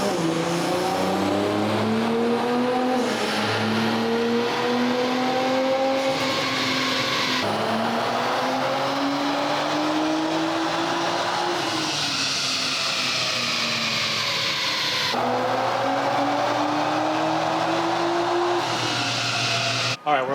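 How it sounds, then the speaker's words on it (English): A silver 2014 Nissan GT-R with full bolt-ons, E85 fuel and a full exhaust pulls hard through repeated gear changes, its engine note rising steadily in each gear, loud and close. "All right, we're all wrapped up on this 2014 GTR. Beautiful super silver, full bolt-on E85."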